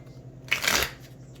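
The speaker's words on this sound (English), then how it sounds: "there will be no ugly shuffles" A tarot card deck is shuffled in one quick riffling burst of papery flutter lasting about a third of a second, close and fairly loud against a quiet room.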